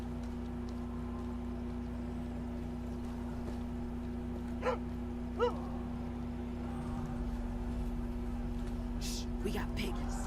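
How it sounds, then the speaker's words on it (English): A dog gives a couple of short, yipping barks in the background, faint and brief, over a steady electrical hum, with people talking nearby. "Is that your doggy?"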